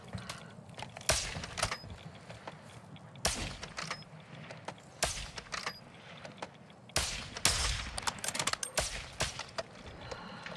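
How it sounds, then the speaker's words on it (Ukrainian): Gunfire in Call of Duty Modern Warfare II DMZ: sharp sporadic shots and short bursts at irregular intervals, some near and loud, others fainter, over a low steady background hum with no talk. "Стріляє десь."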